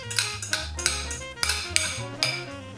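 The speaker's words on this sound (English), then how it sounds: "And then it says to mix until the dough holds together." A fork mixes biscotti dough with beaten egg white in a bowl, making a steady rhythm of close metallic clinks and scrapes against the bowl, about one every quarter second, with no talking.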